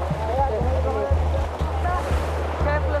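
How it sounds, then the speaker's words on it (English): Steady wash of ocean waves beside a boat carrying Rohingya refugees, with a constant low rumble, close and loud, with faint voices and some tonal sounds over it. "Careful of the waves."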